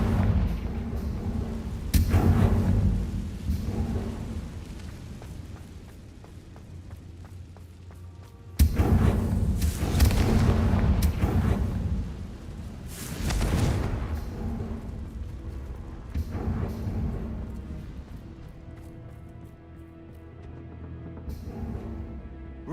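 Confringo blasting spell explosions in Hogwarts Legacy, several heavy booming blasts with sharp onsets and rumbling decays, spaced a few seconds apart, loud and close with no talk.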